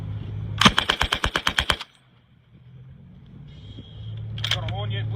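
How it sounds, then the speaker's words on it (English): An M60 machine gun test firing outdoors at a military show, a single rapid burst of about ten sharp, loud shots, then a low engine rumble with a brief clatter near the end. "Test firing!"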